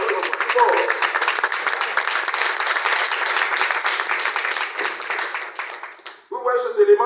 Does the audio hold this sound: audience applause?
yes